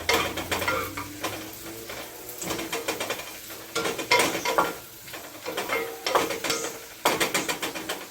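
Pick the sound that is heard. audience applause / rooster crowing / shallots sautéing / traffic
shallots sautéing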